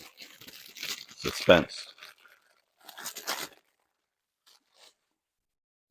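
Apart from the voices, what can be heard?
crinkling of toy packaging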